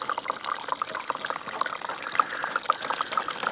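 Water swishes and trickles steadily while black sands are washed out of a gold pan during cleanup, a close, continuous sloshing with small splashy spikes and no talking.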